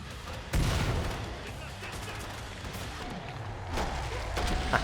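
Gunfire from the Killing Floor 2 zombie shooter, with a loud burst opening the clip and repeated shots and booms rolling on under a busy game mix, voices talking throughout.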